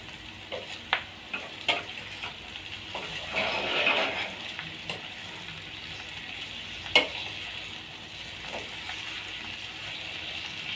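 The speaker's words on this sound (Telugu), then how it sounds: "ఇది ఒక 2-3 మినిట్స్ ఫ్రై కావాలండి" Boiled cluster beans (gokarakaya) with onion fry and get stirred in a pan, giving a steady soft sizzle broken by occasional sharp scraping clicks of the spoon, with no talking.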